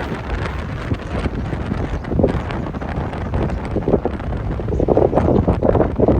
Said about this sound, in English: Still very early in the morning and super windy today.